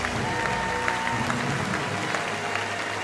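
Applause fills the hall at a Friesian stallion inspection, a dense, continuous roar of clapping hands from a large crowd, steady and close throughout.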